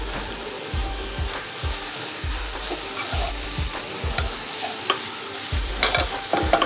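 Cauliflower rice is mixed and cooked on high flame, a loud continuous sizzle broken by repeated rhythmic scraping strokes of a spatula against the pan, close and unbroken.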